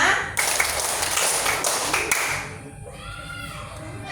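A classroom of students claps together in a counted pattern, a quick run of sharp, fairly close claps that stops abruptly and leaves a quieter room.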